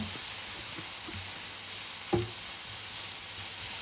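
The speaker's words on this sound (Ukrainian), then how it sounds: "Зараз смажимо цибулю і моркву" Steady frying sizzle of onion and carrot in a pan, a constant hiss with a brief clink or stir partway through.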